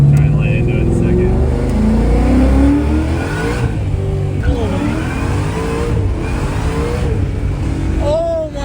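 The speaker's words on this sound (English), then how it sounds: "Dude, the blower sounds nasty. It does sound sick. It's not like your usual Whipple blower sound." A supercharged Fox Body Mustang with a GT500 engine swap accelerates from inside the cabin, engine revving and rising in pitch with blower whine through gear changes while people talk excitedly over it.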